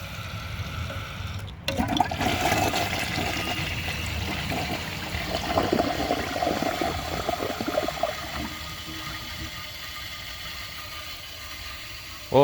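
A Mansfield Alto toilet flushes loudly nearby, a sudden click of the mechanism followed by a rushing, gurgling swirl of water that runs for several seconds before fading into a steady trickle.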